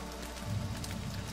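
Raindrops falling in an audio drama scene, a soft, steady patter of rain on a surface, quiet and continuous throughout.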